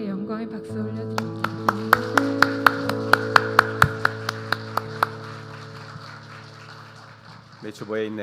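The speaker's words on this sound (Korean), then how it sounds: "영원하신 하나님께 영광의 박수 올려드립니다." A church congregation claps in praise during a Sunday worship service: a steady series of about fifteen sharp, evenly spaced unison claps over sustained organ or keyboard chords, fading out toward the end.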